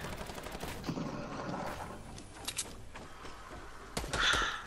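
Scattered gunfire and bursts of shots in a Fortnite battle royale match, moderately loud with a louder cluster near the end, set against busy game ambience.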